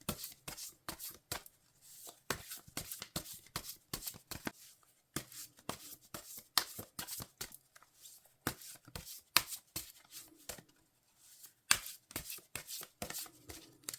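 Am'Rïta oracle cards being shuffled by hand, close and quiet, as a long series of quick papery slaps and riffles in uneven bursts with brief pauses between them.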